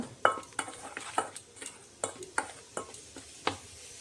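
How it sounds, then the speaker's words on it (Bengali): Spices and black cumin seeds are stirred in a pan, with a quiet, regular series of spoon scrapes and clicks about every half second. "কালো জিরে দিয়ে এখন আমি এগুলোকে প্রথমে ভালো করে মিক্সড করে নিচ্ছি"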